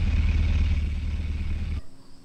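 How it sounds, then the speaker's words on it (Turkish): Noisy Honda Civic engine in the Car For Sale 2023 video game, a loud low rumbling idle with clattering that cuts off abruptly near the end, no talk. "Çok ses geliyor arabadan ya."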